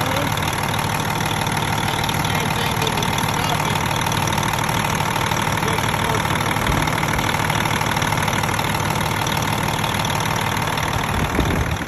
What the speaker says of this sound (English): I'm gonna go ahead and start the engine with the valve cover off